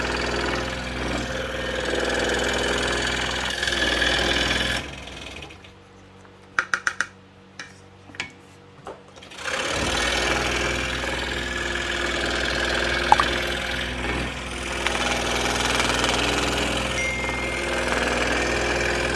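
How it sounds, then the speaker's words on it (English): Scroll saw cutting out wooden X pieces for a tic tac toe game, a steady mechanical buzzing drone that runs near and loud for most of the clip, with a short pause of clicks and taps midway. "practice cutting a straight line with a scroll saw"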